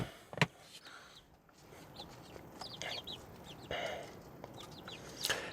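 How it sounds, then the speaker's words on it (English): Young chicks clucking and peeping nearby, scattered short calls over a soft background rustle, with a few sharp knocks. "We got chickens. We absolutely have chickens."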